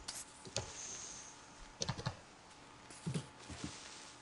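Computer keyboard typing during a Minecraft session, with scattered close, quiet key clicks in small clusters and pauses between them, no talking.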